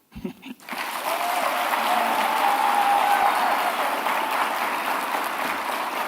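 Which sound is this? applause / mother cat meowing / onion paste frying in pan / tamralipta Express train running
applause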